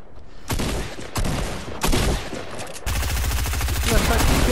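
Rapid bursts of gunfire from the video game Fortnite, several loud separate volleys followed by sustained automatic fire, with a player's voice briefly heard underneath.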